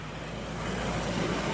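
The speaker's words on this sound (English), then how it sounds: "Oh, more cars." Cars pass along a road during an outdoor walk, a continuous broad rush of traffic noise that swells slightly louder toward the end, with no one talking.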